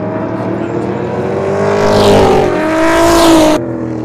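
Race cars, including a 6-litre car, a BMW 5.7 and a Nissan, roar through a continuous engine drone that swells twice as they pass, then cuts off sharply near the end.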